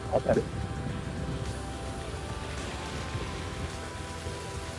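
Steady rain hisses throughout, with a brief muffled voice at the start.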